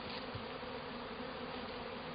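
Honey bees hum in a steady, faint drone around a spring beehive, a brief continuous buzz with no other sounds.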